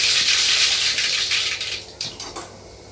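Mustard seeds sputter in about four spoons of hot oil for a tempering, a loud close sizzling hiss that gradually fades into scattered crackles and pops.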